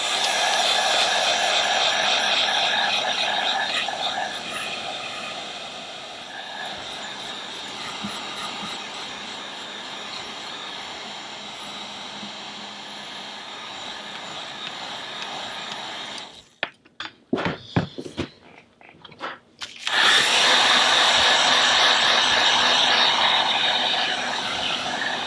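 A hair dryer blows on wet paint of a spring lily painting, a steady loud whooshing rush that stutters on and off briefly before resuming at full strength.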